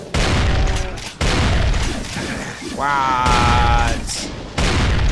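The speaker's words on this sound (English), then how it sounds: "Shotgun." Shotgun blasts and other heavy gunfire boom repeatedly in the video game Brutal Doom, dense and loud over game music and noise, with a brief spoken exclamation in the mix.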